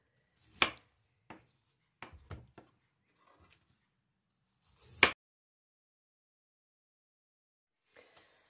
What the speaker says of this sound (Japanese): これを一口大の乱切りにします